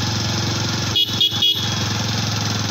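Two-wheeler motorbike labouring in low gear up a steep hill road, engine droning steadily and loud throughout with a brief stutter near the middle, no talk over it.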